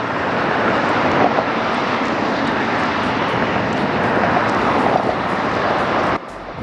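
An airplane passes at Las Vegas airport, a loud broadband jet roar that holds steady the whole time and then drops off suddenly at the end.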